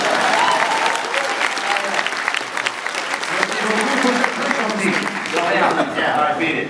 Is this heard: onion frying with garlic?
no